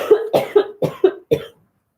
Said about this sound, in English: from all this coughing